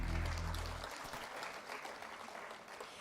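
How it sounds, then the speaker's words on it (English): An audience at a clean and green energy event applauds, with a low hum fading out in the first second while the clapping continues steadily at moderate volume. "A big round of applause, everyone"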